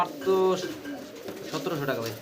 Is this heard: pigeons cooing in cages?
yes